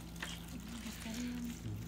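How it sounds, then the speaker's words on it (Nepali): Water trickles and splashes softly into the soil of a plant pot where vegetable seeds are germinating, faint against a low steady hum. "यसरी पानी लाउने हो।"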